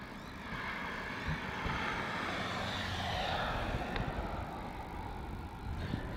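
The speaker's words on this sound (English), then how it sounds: "Here is Sri Lankan Airlines Airbus A330-300 coming in from Colombo as UL 604." Sri Lankan Airlines Airbus A330-300 jet landing at Melbourne Airport, a steady broad engine roar holding at even loudness throughout, moderately distant, with no voices.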